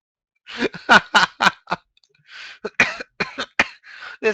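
A rapid series of harsh, choppy coughs comes in two fits with a short pause between, close and fairly loud.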